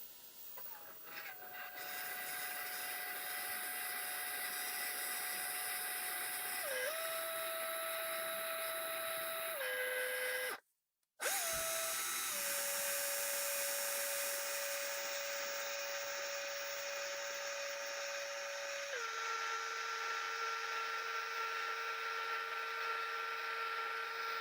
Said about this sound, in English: finish it off with the hand drill